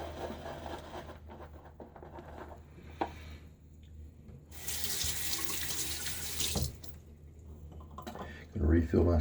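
A bathroom water tap runs into a sink to refill a shaving syringe, a bright rushing stream of several seconds in the middle, with quiet clatter before and after and a voice speaking nearby.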